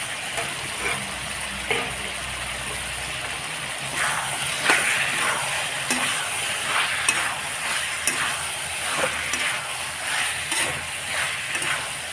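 Half-fried chicken pieces sizzle steadily in a hot pan for Assamese chicken curry, with a continuous close frying hiss and scattered clicks of stirring.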